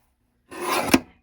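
A pre-foiled snowflake paper panel being trimmed with a paper trimmer: one short rasping slide of the blade lasting about half a second, ending in a sharper cut, close and alone in quiet.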